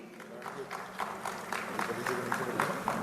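Applause from a crowd at an awards ceremony in Gwalior, fairly soft and steady, with rhythmic clapping pulses throughout and a faint murmur underneath.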